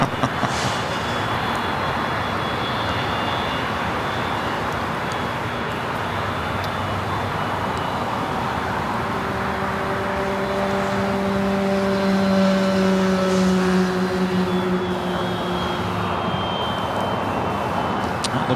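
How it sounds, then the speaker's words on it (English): An Air Premia airliner taxis at LAX. A steady, loud jet engine whine and rumble holds throughout, with tones slowly rising and shifting as it moves, and no talking. "Looks like Air Premia actually heading to the south side on taxiway Delta"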